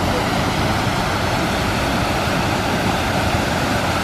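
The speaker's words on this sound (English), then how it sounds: "check out this waterfall here" A waterfall's rushing water fills the scene outdoors on a family Easter train ride outing, a loud, steady, broadband roar that continues unchanged throughout.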